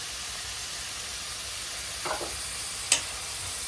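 Cumin seeds go into hot oil and fry with a steady, soft sizzle, with a brief louder spatter and a clink partway through, close by and with no talk.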